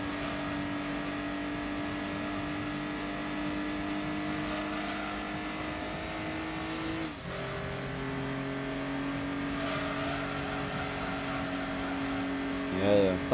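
Small Suzuki or Subaru race car in Gran Turismo 2, its engine droning steadily with gear-shift dips, a sharp drop midway, then climbing again and ending in a short rising rev, up close throughout.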